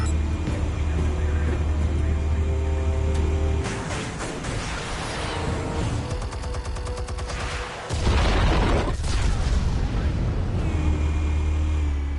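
Explosives detonating in the Telltale Batman game, heavy booming blasts and crackling debris over a loud low rumble, with a sustained roar that drops out midway and then returns.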